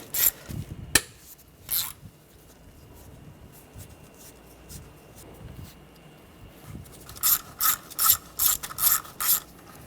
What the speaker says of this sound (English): Using a 11mm socket, take the bolts out for the intake plenum